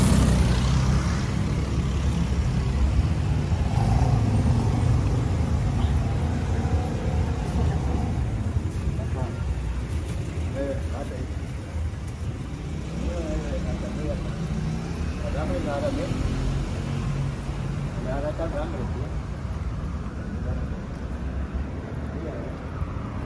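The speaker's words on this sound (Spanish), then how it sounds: "Que pasen ahí todos los carros ahí." Cars and trucks rolling past on a road, a continuous low rumble of traffic with wind buffeting the microphone, while people talk throughout.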